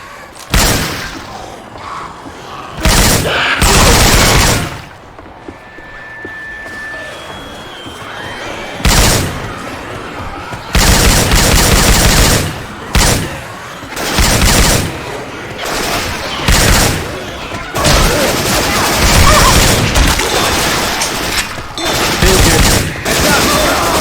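Gunfire from Syphon Filter weapon sounds modded into Left 4 Dead 2 comes in repeated loud bursts and volleys, some short, some sustained, with brief gaps between them.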